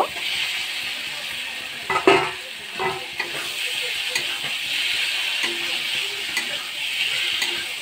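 Cauliflower and potato pieces go into frying masala in a pan: a few sharp clattering knocks as they drop in, then a steady sizzle with light stirring and scraping.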